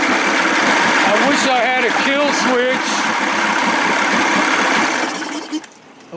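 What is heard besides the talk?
55 hp Evinrude outboard engine running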